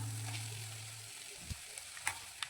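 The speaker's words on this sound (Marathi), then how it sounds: "2 मिनिटं भाजू द्यायचं।" Masala of turmeric, red chilli powder and garam masala frying in a pan for a spicy fish curry, a faint steady sizzle with a few soft stirring clicks and taps.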